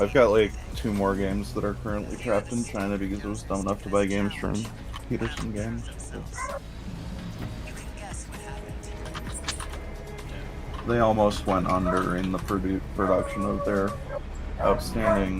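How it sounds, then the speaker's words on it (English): Dogs bark and yip excitedly under someone talking about board games, with barking mixed into the conversation. "I'm really sorry about the dogs."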